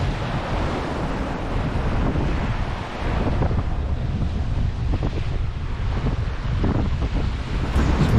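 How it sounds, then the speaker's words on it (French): Rough open-ocean waves and strong wind aboard a Mini 650 sailboat during a transatlantic return crossing, a continuous loud roar of surf and buffeting wind with no voices. "C'est pas des vagues, c'est des montagnes."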